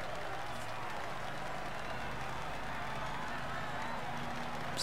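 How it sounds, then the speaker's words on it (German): Applause from cycling fans at the roadside during a Vuelta a España 2016 stage in a video game, a steady wash of clapping and crowd noise under someone talking. "Die Fans, das sieht immer sehr falsch aus, wenn die Männer da so klatschen."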